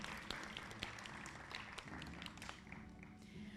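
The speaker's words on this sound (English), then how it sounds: "An applause for Kaji." Applause from an audience at a school graduation ceremony, steady moderate clapping throughout with a few sharper claps standing out, heard from a distance in a large hall.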